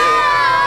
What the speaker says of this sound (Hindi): ये वहम नहीं, सच में किसी बच्चे की चीखने की आवाज थी।